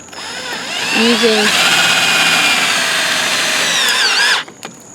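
A power drill drives self-tapping screws to fix wire to the metal frame of a chicken and quail pen built from a trampoline, one loud continuous run of about three seconds that winds down, with a short voice near the start.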